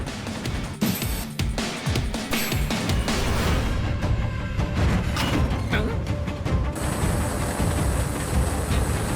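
A cartoon train runs along a track with a steady, loud rolling rumble and clattering wheels. Hissy noise carries through, and no one speaks.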